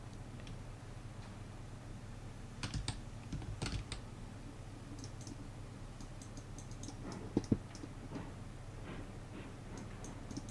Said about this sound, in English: I am a fast typer and my keyboard is very loud.